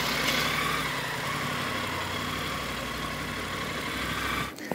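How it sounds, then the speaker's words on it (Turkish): A motorcycle engine runs close by at a steady, throaty idle-like drone, with a brief dip and clatter at the very end; no one speaks. "Bakıyorum, motoru hızlandırdım,"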